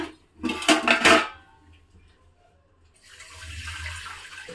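Drinking water poured onto washed greens in a kitchen, a loud close splash and rush for about a second, then quieter running water trickling in the background.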